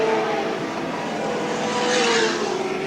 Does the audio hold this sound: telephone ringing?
no